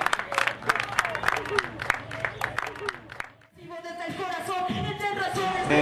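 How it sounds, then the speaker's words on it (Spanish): Audience at an anti-violence graffiti gathering in Cerro Navia claps in a quick, scattered burst for about three seconds. It cuts off and gives way to loud amplified sound with a voice. "Muchas gracias hermano por esa aplauso"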